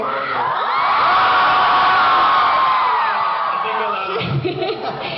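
A large audience screams and cheers loudly for several seconds, a sustained roar of shrill voices that tapers off toward the end.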